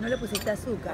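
Turkish tea glasses clink together in a toast, a few bright glassy chinks mixed with a little cutlery rattle, close and fairly loud, heard under a voice talking.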